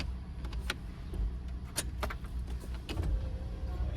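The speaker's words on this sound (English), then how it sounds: "I'm trying to roll my window up a little bit." A car's power window motor whirs steadily under a low engine rumble, with a few faint clicks and rattles along the way.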